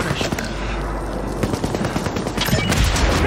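Rapid automatic gunfire in Call of Duty Warzone, dense bursts of shots crackling close and loud throughout, with a voice heard faintly underneath.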